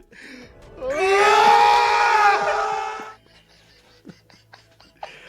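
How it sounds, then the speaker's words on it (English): A grotesque, drawn-out scream rises sharply and holds loud and strained for about two seconds before cutting off, followed by quieter scattered clicks and brief noises. "That grotesque scream, man."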